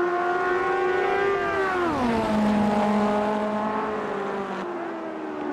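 A race car engine in the Automobilista racing game holds a loud, high whining drone that drops in pitch as the car shifts or slows, then steadies, with no talk over it.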